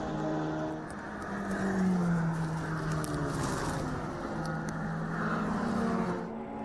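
Touring race cars lapping Canadian Tire Motorsport Park roar past in a continuous engine drone, with rising and falling pitch as they pass and shift, loud and sustained.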